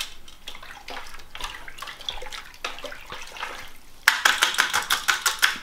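Water being stirred in a DWC hydroponic reservoir for Carolina Reaper plants, with faint swishing at first and then a louder run of rhythmic sloshing strokes close by, no talk.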